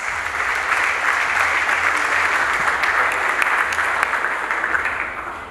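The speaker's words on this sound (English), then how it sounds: "Let's clap for Boyfield as he comes." A school assembly crowd at Accra Academy claps loudly and continuously for several seconds, then the clapping tapers slightly toward the end.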